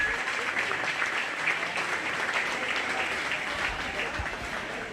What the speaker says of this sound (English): So why don't we go ahead and give all the people that are in charge of this project and these kiddos a big round of applause